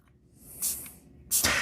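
Two short hissing bursts from a spray bottle misting install solution onto a car's 11.6-inch infotainment screen for a screen protector, close and sharp with a quiet pause between.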